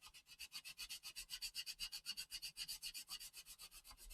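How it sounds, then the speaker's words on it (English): A sander lightly works over a wet surface with a fingerprint-marked, slightly dented area, making quiet, steady rasping strokes that repeat in a fast even rhythm, close by and with no talking. "we just come along and we just lightly sand down"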